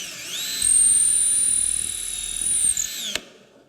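A power drill with a 1/4 inch bit bores into a wooden chisel handle, a steady high whine running about two and a half seconds before spinning down and stopping.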